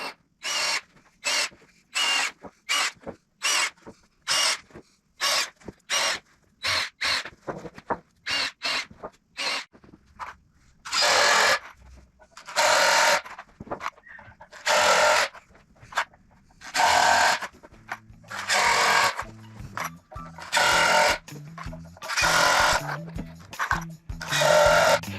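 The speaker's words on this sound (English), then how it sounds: "I'm going to start by throwing my countersinks in the middle of all these screws here and putting these GRK fasteners in" A power drill drives GRK fasteners into countersunk screw holes while a large post-frame wall is assembled: a close, loud run of short whirring bursts, then a series of longer, steadier drive runs separated by brief pauses.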